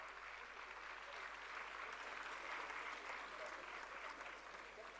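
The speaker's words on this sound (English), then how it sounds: "A huge round of applause to Khatija." An audience at a young achievers awards summit in a hall gives sustained, steady applause for a student topper, a dense wash of many hands clapping at a moderate distance.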